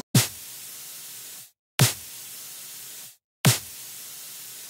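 Three identical bursts run through a reverb plugin with a square decay, each a sharp noisy hit whose tail holds flat and then cuts off abruptly into silence, evenly spaced and isolated.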